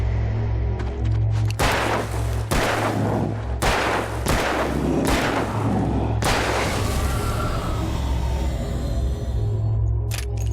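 Gunshots ring out in the video game Alan Wake, a series of about six loud, booming blasts spaced unevenly over a constant low rumbling background drone, each shot sharp and close with a short echoing tail.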